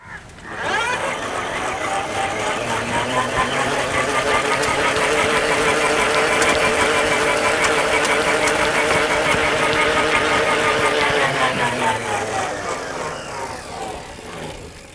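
Bicycle-mounted dynamo spinning as the cycle wheel rotates on a homemade self-charging electric bike, a steady close whirring hum that rises, holds evenly for about ten seconds, then winds down.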